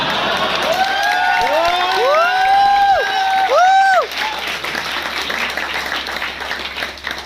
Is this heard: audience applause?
yes